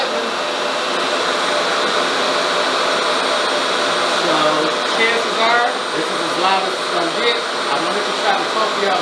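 A RevAir reverse-air hair dryer runs loudly and steadily, a broad, constant airy roar with a whining tone, while a voice talks over it in places.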